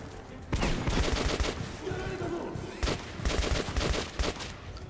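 AK rifle fire in Metro 2033 Redux, loud and close, with dense bursts of rapid shots and short pauses between them, under a continuous rumble of game sound.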